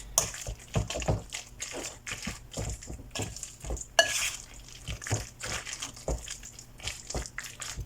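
Thick pumpkin batter is stirred and mixed in a bowl with repeated soft, wet slaps and scrapes, plus an occasional clink of the utensil against the side.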